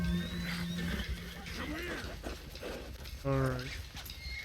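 Loose stallion in a cowboy video game, giving a clear, close whinny that rises then shakes in a descending trill near the end, with hoof clip-clops and a brief spoken word around it.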